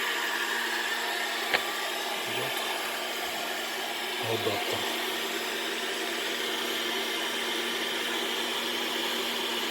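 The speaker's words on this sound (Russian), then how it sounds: "Фен красный." A red hair dryer serves as a roughly 2.2-kilowatt load on an electric car charging adapter, giving off a steady whooshing hum with a tonal whine. Someone says a single word over it.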